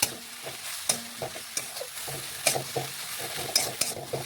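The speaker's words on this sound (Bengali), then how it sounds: "দিয়ে ভালোভাবে মিশিয়ে মশলাটা একটু ভেজে নিচ্ছি" Ginger, cumin and garlic paste fries with a little water in a pressure cooker for mutton, a low sizzle under repeated clanking stirs and scrapes of a spoon.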